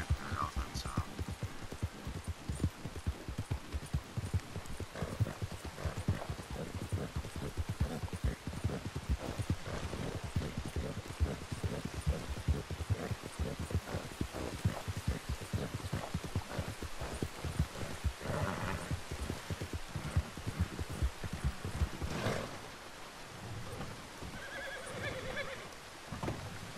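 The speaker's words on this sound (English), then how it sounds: "Just a lot of horse riding, man." In Red Dead Redemption 2, a galloping horse's hooves beat steadily and close for a long stretch, with occasional neighs and light rain, before slowing near the end.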